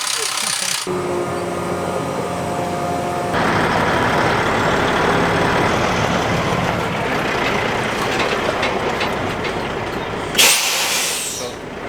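A steady, loud diesel engine drone with mechanical rattling and clanking from a tractor and large square baler making hay runs throughout, ending with a brief hiss.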